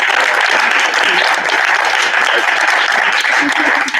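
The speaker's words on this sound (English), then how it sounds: "let's give one last round of applause to the folks in the center." Audience at a performing-arts panel discussion gives a steady, dense round of applause, loud and continuous throughout with no talk over it.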